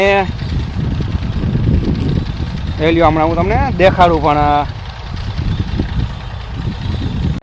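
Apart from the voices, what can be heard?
old-model Massey tractor engine running a pesticide sprayer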